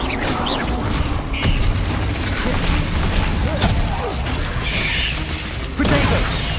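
A Descendo spell in the video game Hogwarts Legacy lands with heavy mechanical crashes and thuds amid busy battle noise, with voices speaking over it.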